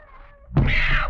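A cat sound effect in an old 1949 radio drama: a short, loud yowling wail breaks in after a brief quiet musical tone, close and sustained to the end.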